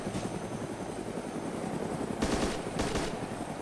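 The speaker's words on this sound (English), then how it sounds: "They're firing right into the cockpit" Automatic gunfire in the video game ArmA 2 DayZ rattles in two short bursts over a constant droning helicopter engine.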